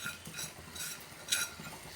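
Roasted semolina for sajjige stirred on low flame in a pan, a steady soft scraping and shuffling of a spoon through dry grains, rhythmic and close, with one brighter clink midway.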